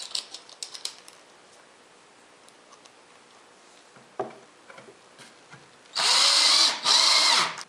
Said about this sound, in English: Now all I have to do is screw it in place.